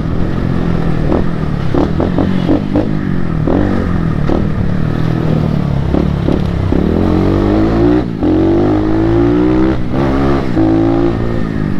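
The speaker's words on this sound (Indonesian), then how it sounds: "suaranya galak kayaknya ini motor" A loud motorcycle engine idling and revving repeatedly, with sharp throttle blips and a rough, clattering exhaust note close by.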